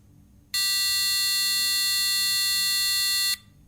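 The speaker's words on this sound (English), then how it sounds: "And then now when you arm it, you'll get a loud tone." Pixhawk flight controller fitted to a CX20 drone sounds a loud, steady high-pitched buzzer tone when armed, holding for about three seconds over faint background hum before cutting off.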